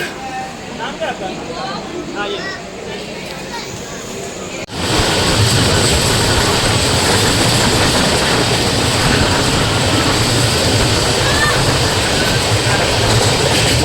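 A train at Panvel railway station, first a quieter stretch with a voice, then a sudden loud, steady rumbling roar of rolling rail cars and wind that continues to the end.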